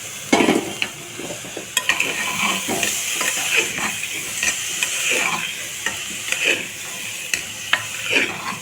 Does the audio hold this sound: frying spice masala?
yes